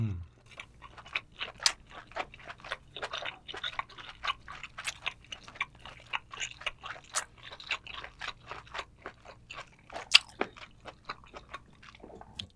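Wet, crunchy chewing of giant conch (turban shell) meat, close and steady with irregular bites and squelches repeating throughout, no talking over it.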